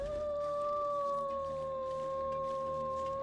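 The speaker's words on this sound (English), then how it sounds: "Wolf. Bark, bark. Howl." A wolf in The Long Dark video game lets out a long, steady, clear howl that holds one sustained, slowly falling tone for over three seconds, heard alone against quiet ambience.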